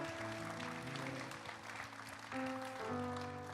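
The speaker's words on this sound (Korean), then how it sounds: "우리 다시 한번 하나님께 감사의 박수 올려드리겠습니다" A church congregation claps in thanks during a Korean Sunday worship service, a steady wash of applause lasting throughout beneath sustained keyboard or organ chords that swell near the end.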